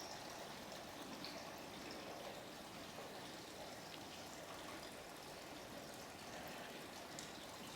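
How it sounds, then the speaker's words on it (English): Trickling, flowing water played during a guided meditation, a continuous soft gushing wash with no pauses, fairly faint and steady, no voices. "Is the water too loud?"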